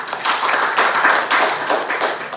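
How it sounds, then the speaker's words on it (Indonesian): Children in a classroom clap together in a steady burst of applause lasting a couple of seconds, close and fairly loud, with no talking over it. "Tepuk tangan anak-anak."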